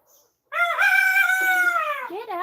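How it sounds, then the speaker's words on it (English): A chicken lets out a loud, close, drawn-out call lasting nearly two seconds, ending in a brief cluck-like break, with quiet before it. "Get out of here, chickens."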